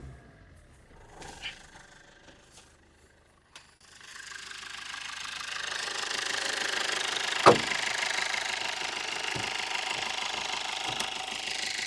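Diesel engine of a 2017 Maruti Swift Dzire VDI running with the bonnet open, a steady close mechanical clatter that builds from about four seconds into a louder sustained roar with a sharp knock partway.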